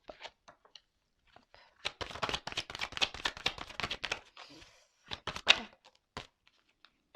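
Tarot cards handled and shuffled by hand, a run of quick dry riffling flicks and soft slaps, fairly close and quiet, with scattered single taps before and after and no talking.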